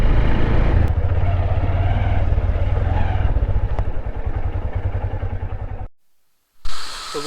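Motorcycle engine idling close and loud, then easing down as the bike is brought into a parking area, cutting to near silence before a brief hissy rush at the end.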